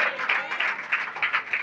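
A church congregation claps along during a sermon, moderate and somewhat rhythmic bursts in a reverberant hall, with no distinct speech on top.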